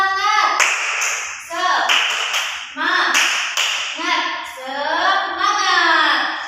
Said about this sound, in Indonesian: Kita tepuk semangat dulu bisa? Oke, tepuk semangat.